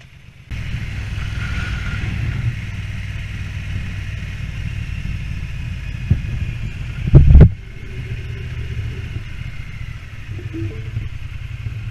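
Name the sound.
Triumph Bonneville motorcycle riding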